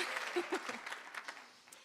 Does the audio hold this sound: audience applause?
yes